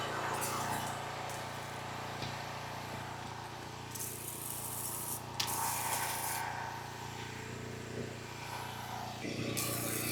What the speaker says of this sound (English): keep spraying solution everywhere like this